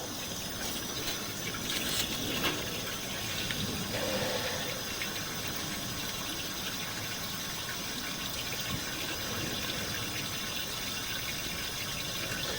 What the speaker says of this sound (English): Let me turn on the water here for a second